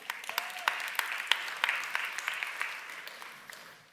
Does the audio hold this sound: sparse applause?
yes